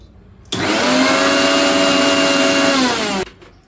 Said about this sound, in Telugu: దీన్ని ఇప్పుడు మనం మిక్సీకి పడదాం